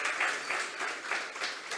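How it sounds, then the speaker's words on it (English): A short burst of steady applause from a crowd at the Mayaro Legacy Awards 2022 ceremony, dense clapping that swells and dips slightly throughout. "a round of applause"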